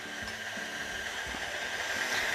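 An electric mixer beats apple pie dough with ice water into crumbs, giving a steady close whirring hiss with faint low knocks from the bowl, continuous throughout.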